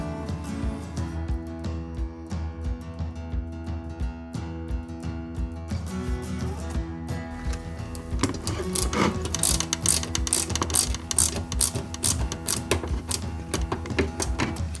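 Small screws driven into a Porsche 917 KH scale model kit, a steady mechanical whirring and ratcheting that runs throughout at close range and grows louder and busier in the second half.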